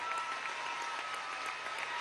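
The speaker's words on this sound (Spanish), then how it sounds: "Vamos a darle un gran aplauso." Steady applause from a crowd at a political event in Venezuela, a dense wash of clapping filling the whole moment without a break.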